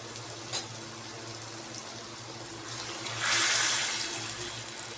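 Chickpeas and peeled potato pieces hitting hot spiced oil in a pan, a sudden loud hissing sizzle that swells near the end over a steady low kitchen background.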